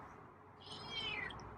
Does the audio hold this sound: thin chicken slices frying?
no